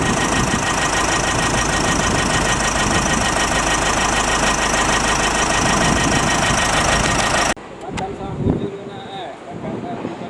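A JCB backhoe's diesel engine runs loud and steady close by with wind buffeting the microphone, then cuts to a quieter stretch with engine rumble and clanks further off.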